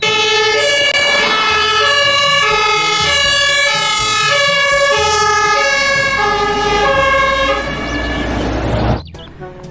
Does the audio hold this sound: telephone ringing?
no